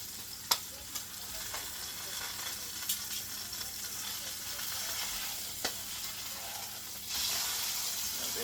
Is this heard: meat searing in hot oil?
yes